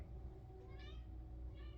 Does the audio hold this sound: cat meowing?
yes